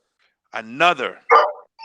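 A pet dog barks and yips in a home during a wrestling talk show, giving a few sharp, loud barks close by in a short burst before a final whine-like yelp.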